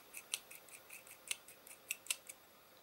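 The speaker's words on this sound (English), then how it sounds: "put the bolt through, and screw that into place." Small sharp clicks and ticks come from a bolt being screwed into place through a brass-insert assembly, with about eight quiet taps spaced irregularly over a few seconds and nothing else around them.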